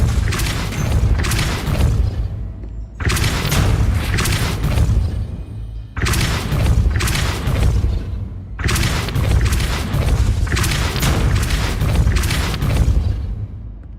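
Depulso spell blasts in the game Hogwarts Legacy, loud dense booming bursts that fill long stretches, broken by short pauses.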